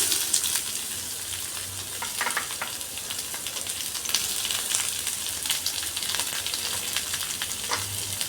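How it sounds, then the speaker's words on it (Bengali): Chopped onions frying in a pan with garlic already browning in the oil make a dense, constant sizzle close up, with faint stirring scrapes now and then. "পেঁয়াজ দিয়ে পেঁয়াজটাকে এখন একটু ভালো করে ভাজতে হবে"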